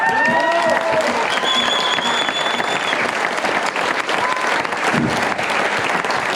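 A large audience at a live show claps steadily and loudly throughout, dense continuous applause in a standing ovation, with a few faint voices mixed in.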